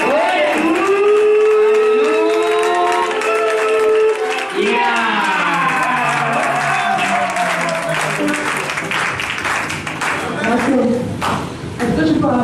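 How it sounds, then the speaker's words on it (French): A church congregation applauds and cheers loudly for the Lord, with sustained dense clapping and rising voices and ululation filling the room throughout. "si vous avez des acclamations pour le Seigneur"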